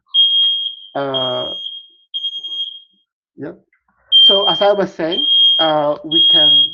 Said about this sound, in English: So they're doing some checking on the fire alarm.